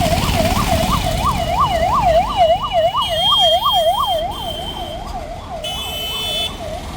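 An ambulance siren wails in slow-moving road traffic, a loud, regular rising-and-falling tone repeating about twice a second, then growing quieter as it recedes, with engine noise and a brief horn-like tone underneath.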